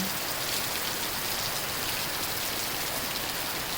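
Steady, heavy rain pouring onto a surface, a dense continuous hiss with no voices.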